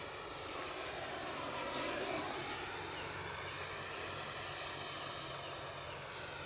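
An E-flite 80mm F-16 RC model jet screams past at high power, a loud steady ducted-fan whine with a faint pitch sweep as it flies by, continuous throughout with no voices.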